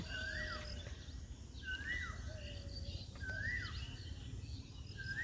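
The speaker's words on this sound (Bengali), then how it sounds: "আর এই পিছিয়ে কুকিল ডাকতেছে" A cuckoo calls repeatedly in the distance in a village after rain, a rising then falling whistled note every couple of seconds over a low rumble of background noise.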